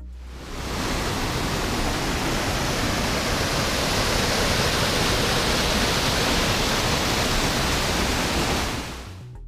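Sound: waterfall at Hallstatt, Austria

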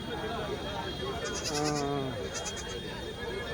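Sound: sheep and goats bleating at livestock market

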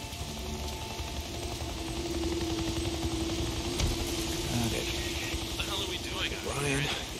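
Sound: helicopter in video game Days Gone

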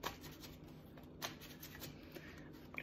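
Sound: shuffling tarot cards

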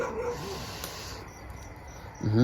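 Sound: dog barking

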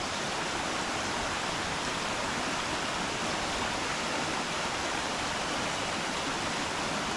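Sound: rushing stream water

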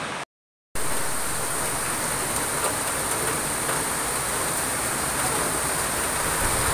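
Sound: continuous rain falling

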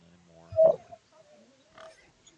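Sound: pig grunting in video game Pathfinder: Wrath of the Righteous

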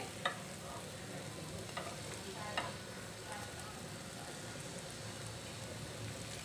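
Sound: mixing chopped chicken into spices

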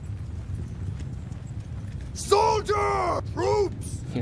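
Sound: horse hooves of mounted archers in the video game Bannerlord

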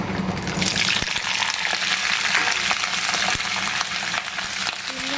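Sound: flat beans dropped into hot wok with nigella and chili tempering

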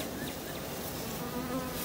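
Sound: honey bees buzzing, nurse bees in a hive

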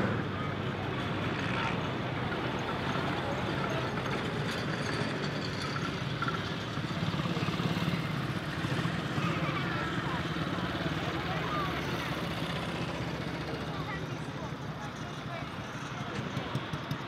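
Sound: Diamond T military truck driving around at steam rally

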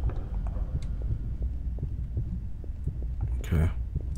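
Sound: heartbeat when stamina runs out, video game Interior Worlds

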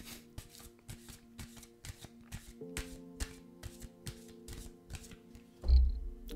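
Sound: shuffling and drawing cards

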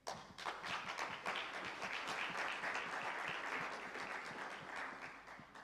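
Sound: audience applause for the conference organizers

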